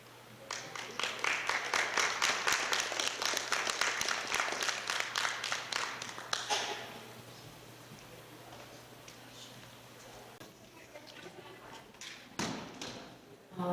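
Audience at a San Luis Valley wellness gathering applauding steadily for about six seconds, then the clapping thins to a few scattered claps over quiet room noise.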